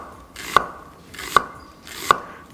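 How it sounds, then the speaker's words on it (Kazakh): A knife finely chops an onion on a board, with three sharp, close strikes at an even, unhurried pace and quiet pauses between them. "кішкене майдалап турап аламыз."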